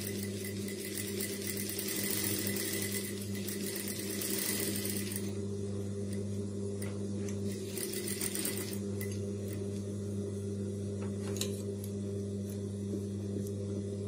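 A sewing machine runs steadily for about fourteen seconds with a loud, continuous motor hum and rapid needle clatter. It is stitching down a neck strip on a high-neck blouse, with no talking.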